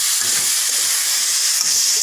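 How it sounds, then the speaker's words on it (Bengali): Loud, steady sizzling of spices and seeds with salt and turmeric frying in a hot pan, a continuous crackling hiss with no voices. "আমি ভাজা ভাজা করে নিচ্ছি"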